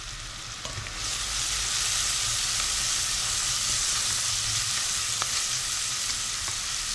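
Onions frying with curry powder in a pan give a loud, steady, close sizzle that jumps up after a brief quieter start, with a few faint stirring knocks and no voices.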